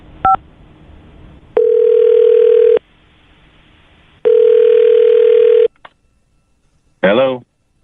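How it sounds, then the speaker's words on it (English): A telephone plays a short touch-tone beep, then two long steady dial-tone stretches separated by silence, and a final warbling tone at the end. All of it is loud and clear, with no talking over it. "I'll dial his phone number right now"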